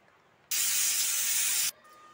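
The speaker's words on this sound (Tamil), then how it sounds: "இப்போ நம்ம குக்கரை மூடி வச்சு ஒரு 3 விசில் விட்டு எடுத்துக்கலாம்." A pressure cooker vents steam while cooking green gram, giving one loud, sustained hissing burst of about a second, starting abruptly and cutting off sharply against a quiet kitchen.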